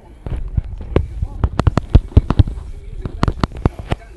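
Rapid blaster fire in the game Star Wars Rivals during PvP combat: a quick string of sharp, punchy shots in irregular bursts, loud and close, with short gaps between volleys.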